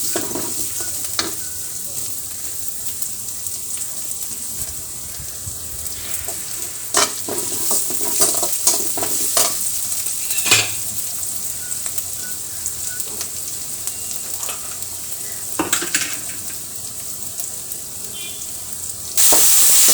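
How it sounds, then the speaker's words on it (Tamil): Tomatoes and onions sauté in oil with mustard seeds and curry leaves for rasam, a steady close sizzle broken by occasional stirring clatters from a spoon against the pan. "இப்போ நல்லா அந்த தக்காளியும் வெங்காயம் எப்படி வதங்கி வருது பாருங்கள்"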